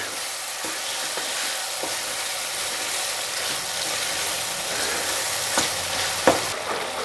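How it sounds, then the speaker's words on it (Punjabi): A tomato tadka fries in ghee in a pan for Punjabi-style green moong dal, giving a steady, loud sizzle broken by scraping, clinking stirs from a spoon, with no voices. "ਤੜਕਾ ਆਪਣਾ ਚੰਗੀ ਤਰ੍ਹਾਂ ਭੁੰਜ ਗਿਆ ਘਿਓ ਛੱਡ ਦਿੱਤਾ"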